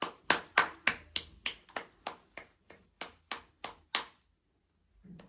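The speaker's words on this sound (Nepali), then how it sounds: "खै ताली।" Rhythmic clapping of hands at a family birthday cake cutting, about a dozen sharp, evenly spaced claps close by, then stopping into near silence.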